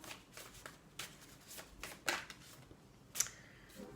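Tarot cards are shuffled and drawn by hand, a series of quick close riffling and flicking bursts at irregular intervals, quiet and without talk.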